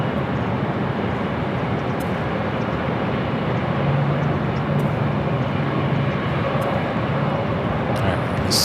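A Delta Airbus A350 jet bound for Atlanta at Los Angeles airport produces a steady broadband engine roar, even and sustained throughout, heard from a moderate distance with faint tonal hum and no clear talk.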